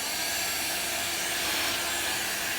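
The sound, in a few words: vacuum cleaner sucking up sanding dust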